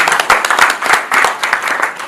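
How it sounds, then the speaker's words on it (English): An audience at an agricultural consultative meeting claps for itself, loud and close, in quick uneven bursts of hand claps over a couple of seconds. "Can we clap for ourselves?"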